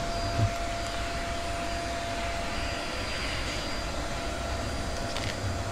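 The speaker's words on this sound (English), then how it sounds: "Let me vacuum that." A vacuum runs continuously during a bee removal from a hollow tree, sucking up bees with a steady, whining hiss and a faint tonal hum throughout.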